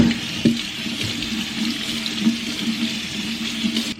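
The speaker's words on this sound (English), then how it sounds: "So I always rinse it off." Tap water runs steadily over canned chickpeas being rinsed in a sink, a continuous hissing splash heard close and alone, with a few small surges and thumps.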